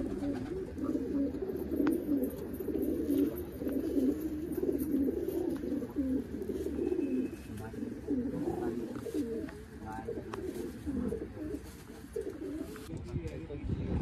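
A Basra-type pigeon coos in steady low, rolling phrases with other pigeons around it, a continuous murmur of cooing across a loft with faint background noise and occasional voices.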